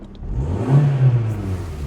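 A 1997 Toyota Corolla CDX, seventh generation, revs its engine nearby, the mid-pitched note swelling to a peak and easing back in a short rising-and-falling surge.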